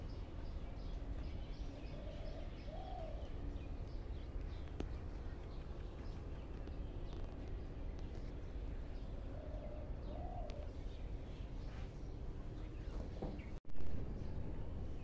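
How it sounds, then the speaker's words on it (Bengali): Two soft cooing phrases from a dove, each short and hollow, at a moderate distance in a quiet outdoor garden with a swing, over a steady background hiss and with no one talking. "চুপ করে ঘুঘুর ডাক শুনবো।"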